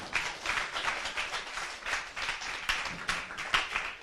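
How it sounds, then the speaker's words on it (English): A magic lecture audience gives a volunteer a round of applause, a fairly quiet, somewhat distant patter of clapping hands with an uneven pulse. "Give Owen a big round of applause."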